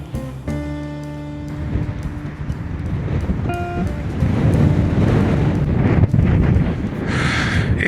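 Strong wind roars and buffets the microphone in loud, rumbling gusts, following a brief musical tone at the start.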